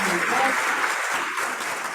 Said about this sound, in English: a big round of applause to our esteemed panel of judges